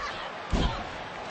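A wrestler is driven face first into the ring, one heavy, booming slam thudding amid the dull roar of an arena crowd.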